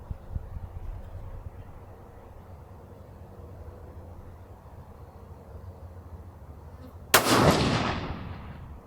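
A single sharp 22 Nosler rifle shot firing an 80 gr ELD-M load over N550 powder, bursting loudly and near after several seconds of quiet outdoor background, then decaying with a rolling echo.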